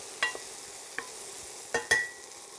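A spoon stirs okra in a pan. A few quiet scraping and clinking knocks sound over a faint, low background hiss, with the loudest pair of strokes coming near the end. No one talks.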